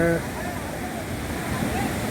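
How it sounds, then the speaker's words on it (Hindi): Rushing water flows steadily at the source stream feeding Kukdi Khapa waterfall, a continuous close broadband roar that runs beneath intermittent talking. "ये है कुकड़ी खापा वाटरफॉल के पानी आने का सोर्स।"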